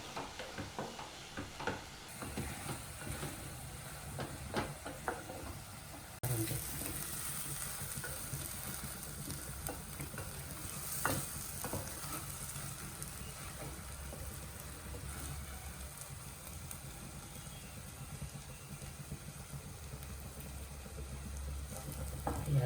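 Goat brain fries in a pan until reddish-brown, sizzling steadily with scattered crackles and occasional ladle scrapes over a faint low hum.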